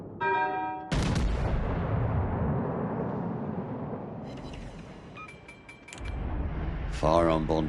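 Heavy battleship guns boom in World of Warships: Legends, a loud sustained roar of naval gunfire with bell-like tones and short metallic blips, while a voice talks over parts of it.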